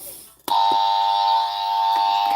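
A loud electronic buzzer sounds abruptly and holds as a continuous harsh tone, preceded by a sharp click.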